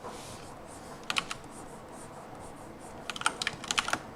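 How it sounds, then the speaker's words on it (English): Quick clicky bursts of typing on a loud computer keyboard, a short cluster early on and a longer run of keystrokes near the end, close to the microphone over a quiet room hiss. "my keyboard is so loud"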